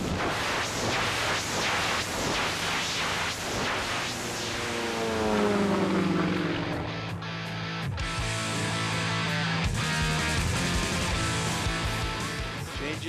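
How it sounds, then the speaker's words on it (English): An aerobatic airplane performs a Russian tumble at an airshow, its engine and propeller roaring loudly and shifting pitch in a sweeping drone as the aircraft flips, with steady crowd-side background noise throughout. "the tumbling, where the airplane is actually going to flip end over end"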